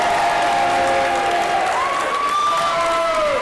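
A wrestling crowd at a WCWA match cheers and applauds loudly for Kirk Castle, a dense, continuous roar of clapping and voices, with a commentator talking over it.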